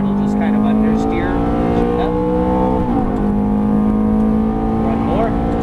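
A Ferrari F430 engine pulls hard out of a corner, with a loud, steady, close-miked exhaust drone and rising harmonics. A voice talks over it throughout.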